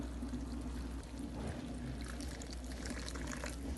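Tamarind water pours steadily into a cooking pot, a continuous splashing gurgle lasting a few seconds with no talking.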